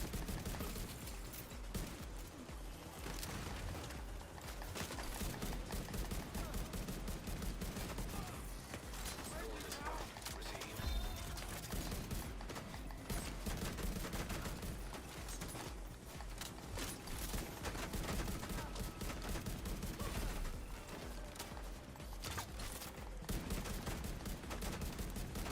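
The Diamondback exotic rifle firing in The Division 2, short rhythmic bursts of sharp shots repeating throughout over game noise, with mechanical clacks between volleys.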